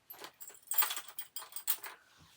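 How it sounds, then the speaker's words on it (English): Skeleton keys jangle in bursts as they are handled and put away during a tidy-up, several metallic clinking flurries close by, ending with a brief quiet clunk. "these skeleton keys, these go back down here"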